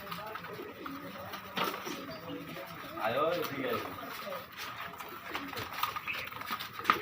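Homa Sirazi pigeons coo softly at a pigeon farm, a continuous low murmur of overlapping calls amid background chatter and movement, with people talking nearby.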